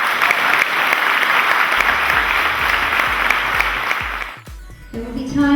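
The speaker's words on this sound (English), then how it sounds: "surely they deserve a round of applause" Loud, dense applause from an audience honouring GAA legends at an indoor gathering, steady clapping for about four seconds before fading into a brief lull and a few scattered claps.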